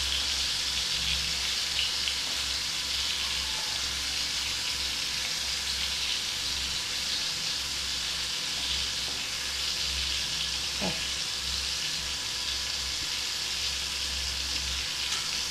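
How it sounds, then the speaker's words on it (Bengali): Stuffed bitter gourd kofta fries in hot oil, giving a steady, even hiss of sizzling that holds at a constant level without pause for about fifteen seconds. "এবার এই দিকটা কিন্তু আমাকে ভাজতে দিতে সময় সময় লাগবে।"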